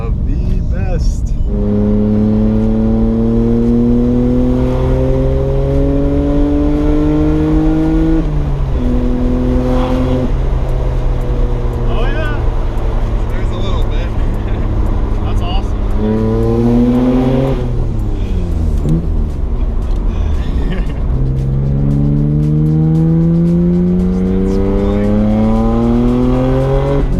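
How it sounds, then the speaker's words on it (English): A Nissan Skyline GT-R R32 with a twin-turbo inline six revs through repeated rising climbs and gear changes, loud and close, with someone talking over parts of it. "I love the RPM right here. Wow, the RV. Oh my Sounds God. so good. Like inline 6 twin turbos."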